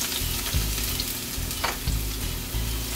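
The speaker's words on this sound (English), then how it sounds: "we're going to saute until the onion is translucent" Diced onion and pimento pepper sautéing in a pan with curry leaves, a steady close sizzle with periodic stirring scrapes and low rumbling bursts, no talking.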